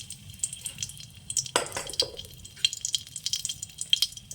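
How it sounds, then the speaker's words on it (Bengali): Dried red chillies frying in a little oil in a wok, with a close crackling sizzle, scattered sharp pops, and one loud spatula scrape partway through. "ভালো করে লাল করে ভেজে নেব।"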